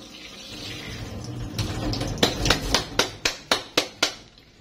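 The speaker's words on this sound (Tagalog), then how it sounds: "lagyan ng tubig, tapos taktak lang." A water filter filled with water is tapped to knock out dirt, giving about ten sharp, evenly spaced knocks that begin after some sloshing and handling noise, close and fairly loud.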